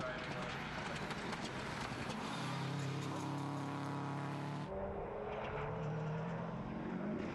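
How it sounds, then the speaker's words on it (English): A Group A Subaru rally car is flung round a hairpin on a rally stage, its engine roaring loud and close with rising and falling revs as it powers through the bend, then fading slightly after a sharp shift midway, with commentary heard over it. "Jock Threadgill from Lauder flinging his Group A Subaru round the hairpin."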